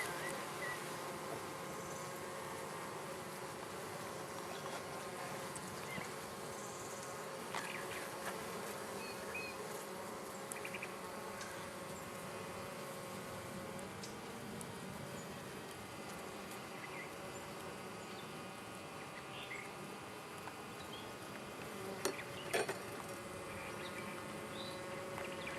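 Bees in a new hive hum in a dense, continuous drone, close and steady throughout, with a few brief faint clicks and distant bird calls.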